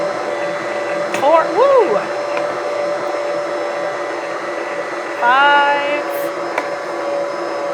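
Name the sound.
electric mixer kneading spelt bread dough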